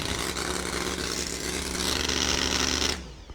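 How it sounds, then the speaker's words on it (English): A two-wheel-drive outlaw pulling truck roars under heavy load at a Friday night pull in Wisner, Nebraska, its engine a dense, grinding, loud drone that bogs slightly before cutting off abruptly near the end. "Heard the motor lug a little bit."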